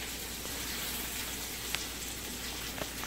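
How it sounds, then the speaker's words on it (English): Ground beef browning in a pan, giving a steady, close, hissing sizzle with occasional faint pops and no voices. "The ground beef is browning nicely."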